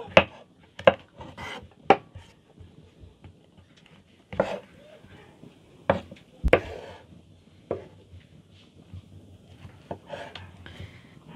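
Knife chopping button mushrooms on a board in a rural kitchen, heard as scattered sharp taps, some in quick pairs, separated by pauses with quiet rustling in between.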